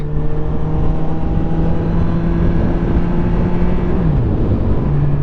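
A motorcycle engine drones steadily while riding, then the pitch shifts and drops as the bike changes speed, loud and close throughout with no talk.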